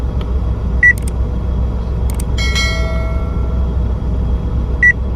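Two short electronic beeps a few seconds apart over a low engine hum, with a brief chime-like tone between them.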